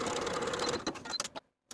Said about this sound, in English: Sew the short edges with a 3/8 inch seam allowance.